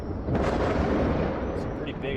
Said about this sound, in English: I'm hearing there's some explosions there.